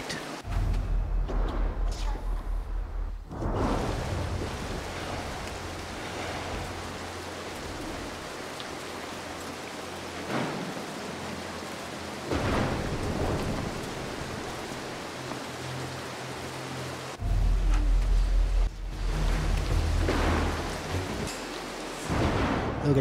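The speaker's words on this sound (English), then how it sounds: "the flash always comes after the thunder sound" Steady rain hisses throughout a stormy level of the video game Mark of the Ninja, with low rumbles of thunder swelling at the start and again near the end.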